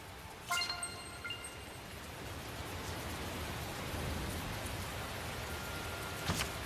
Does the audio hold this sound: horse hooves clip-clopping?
no